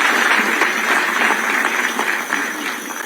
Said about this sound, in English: Another clap for the President